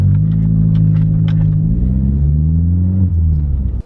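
A car doing a three-point turn produces a loud, close low engine rumble that holds steady, then rises and shifts in pitch as it manoeuvres, dropping off abruptly at the very end.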